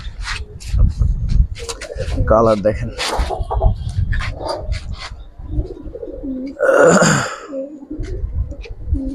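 Pigeons at a farm, a Jabra pair among them, coo and chirp intermittently while someone talks over them nearby, with a louder burst of bird calls near the end.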